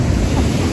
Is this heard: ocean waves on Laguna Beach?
yes